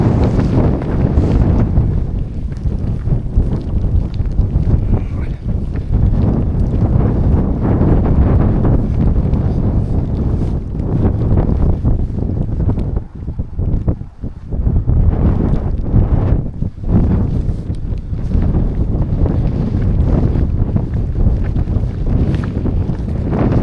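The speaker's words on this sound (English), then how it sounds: "That was windy, rainy, really enjoyable actually." Heavy wind buffeting the microphone on Black Hill with a dense, roaring rumble, rain and gusts blending into continuous loud noise with a few brief lulls.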